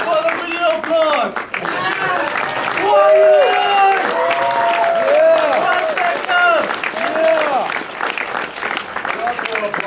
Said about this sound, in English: An applause for the video blog!